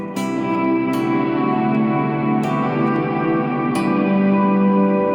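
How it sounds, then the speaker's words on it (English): Sustained electric guitar chords through a quarter-note delay and a quad chromatic delay ring out with heavy, repeating echoes and shimmering delay trails, with sharp picked attacks every second or so. "And then add my quad chromatic delay."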